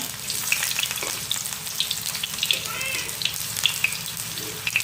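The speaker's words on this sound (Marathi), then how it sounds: "माझं भात घेते गरम करून" Leftover rice reheating in a hot pan, a close crackling sizzle with light stirring scrapes and faint clinks running throughout.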